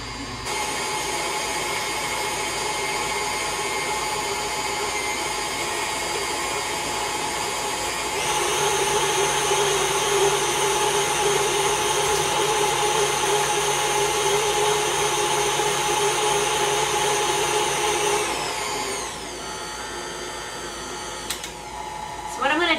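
An electric mixer whirs continuously through banana pudding mixture, a steady motor hum that jumps louder and higher partway through, then drops back before stopping.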